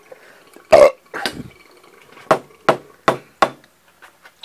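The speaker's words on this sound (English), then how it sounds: "There was a Big Mac in that burp." A single deep, loud burp rumbles out, followed by a few sharper clicks and knocks spaced across the rest of the quiet clip.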